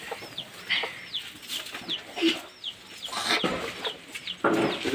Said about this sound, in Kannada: ನೋಡಲ್ಲಿ ಕೋಳಿ